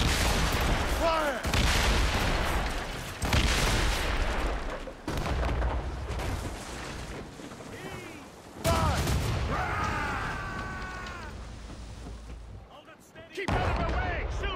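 Ship cannons boom in repeated broadside volleys during a naval battle in Assassin's Creed Rogue, heavy blasts every second or two under shouted crew orders and voices.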